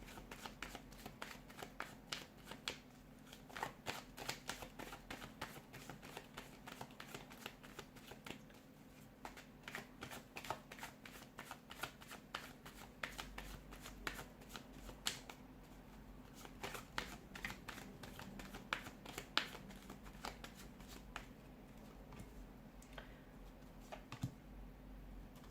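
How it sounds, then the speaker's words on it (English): Tarot cards are shuffled in a long run of soft, rapid riffling and flicking, steady and close, with a faint low hum underneath. "give the cards a shuffle and begin."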